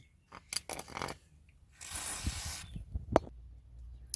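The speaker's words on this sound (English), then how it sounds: "Just spray that bolt there." Penetrating oil hisses from an aerosol can onto a trailing arm bolt under a 1998 Honda Civic EK, a single close burst of about a second among clicks and handling noises.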